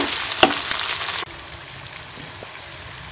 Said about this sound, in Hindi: चिकन को अच्छी तरह से इसके साथ भून लेंगे। और चिकन का कलर चेंज होने तक इसे अच्छे से भूनेंगे प्याज के साथ।